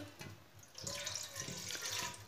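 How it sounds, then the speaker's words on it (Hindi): Water runs from a tap into a cooking pot in a home kitchen while preparing an egg and cauliflower curry, a steady close splashing stream that swells and continues for a couple of seconds, with no talk. "पानी डाल लेंगे"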